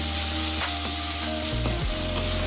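Tomatoes frying for a fish curry while being stirred in a pan, a dense close sizzle with a few scraping strokes under a steady hum, no voices.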